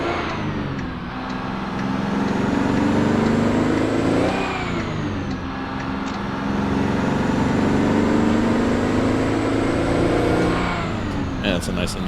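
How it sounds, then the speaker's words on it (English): A Mack R600 truck engine with a 13-speed gearbox drones and revs in American Truck Simulator, pitch rising and falling through gear changes. Someone talks over the steady engine. "that's a nice engine"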